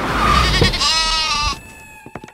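A goat gives one long, loud, wavering bleat lasting about a second and a half, close up, followed by a few faint short knocks and clicks.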